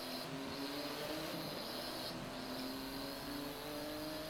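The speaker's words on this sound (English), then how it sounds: "Car sounds pissed off." A straining car engine drones continuously while climbing a cliff in the racing game Forza Motorsport 7, a steady harsh mechanical hum at moderate level with no talk.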